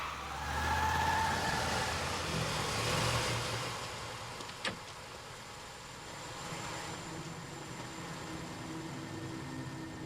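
A car engine revs and pulls away, its rumble fading into steady background noise, with a brief sharp click partway through.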